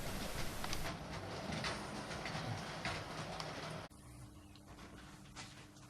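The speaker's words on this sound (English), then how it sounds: "An LBSC D1 departs with the Arundel local" An LBSC D1 locomotive pulls away with the Arundel local train on a model railway layout, a faint rolling rumble with soft rhythmic clicking that drops abruptly in level partway through.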